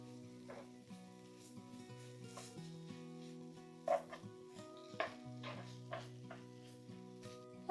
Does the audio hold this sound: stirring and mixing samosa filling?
yes